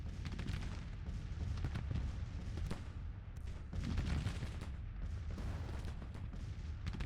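Dense, continuous artillery and musket fire from a Civil War battle in a strategy video game, booms and cracks overlapping throughout with no talk.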